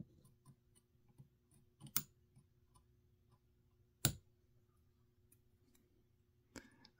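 Scissors snip at the plastic sleeve of a Rubycon Black Gate capacitor, giving three sharp, isolated cuts spaced a couple of seconds apart over a very quiet background.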